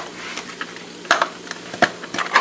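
Meatballs slow-cooking in a pan with a soft, steady sizzle, broken by a few sharp clinks and scrapes of stirring, close and alone with no talking.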